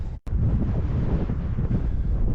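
Strong winter wind in Xinjiang roars loudly and continuously across the microphone outdoors, a heavy, rumbling buffeting with a brief dropout near the start and no voices.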